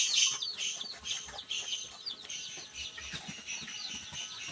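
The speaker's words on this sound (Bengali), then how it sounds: "এগুলো হলো টাইগার মুরগি।" Tiger chickens in a farm house give soft, repeated clucks and high chirping calls at close to middle distance, a busy flock chatter that goes on without pause and without any talking.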